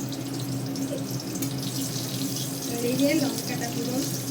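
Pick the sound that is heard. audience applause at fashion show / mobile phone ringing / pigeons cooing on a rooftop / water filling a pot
water filling a pot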